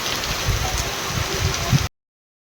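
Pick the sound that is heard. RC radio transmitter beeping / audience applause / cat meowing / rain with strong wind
rain with strong wind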